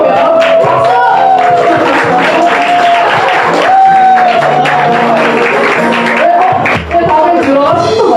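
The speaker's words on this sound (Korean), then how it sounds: "박수!" A crowd at a Korean church youth service breaks into sustained, loud applause mixed with cheers and whoops, filling the whole stretch evenly.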